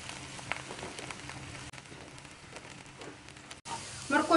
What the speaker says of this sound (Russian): Теперь жарим баклажаны.